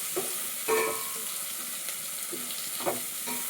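Sliced onions sizzle with salt and turmeric in a pan, a steady bright crackle of frying punctuated by a few soft scrapes and stirring knocks, close and alone.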